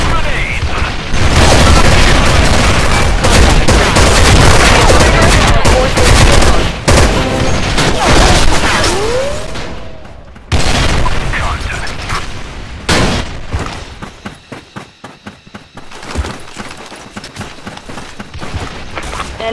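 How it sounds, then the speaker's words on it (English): Loud, chaotic gunfire and booming grenade explosions in the online shooter Special Force II, with dense bursts and heavy blasts that thin out toward the end into scattered rapid shots. Voices call out over the fighting. "Grenade!"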